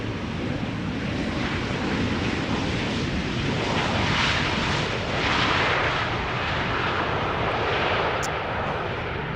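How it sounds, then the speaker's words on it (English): An Emirates Airbus A380 landing at Schiphol Airport produces a loud, continuous broadband roar that swells slightly in the middle and stays dense throughout, with wind-like noise and no talk. "There she is, the Emirates A380."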